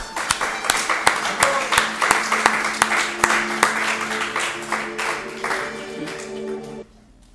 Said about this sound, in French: Je crois qu'on peut l'applaudir, elle est là en plus.